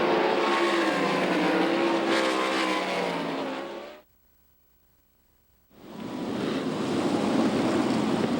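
Sprint cars roar around the dirt oval at Knoxville Raceway, a loud sustained pack of engines for about four seconds, then near silence, before the racing roar swells back in loud and steady.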